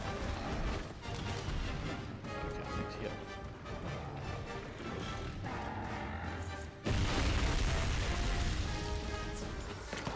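A fire breath attack in a video game roars out as a dense, loud blast of rushing noise with crackling bursts, swelling sharply partway through and carrying on to the end.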